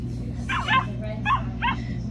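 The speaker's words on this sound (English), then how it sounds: "Oh, can you hear that? Cinnamon was a puppy. It's a dog." A Build-A-Bear Cinnamoroll plush's sound button plays a recorded puppy bark: three short, high yips spaced evenly, each clear over a low background hum.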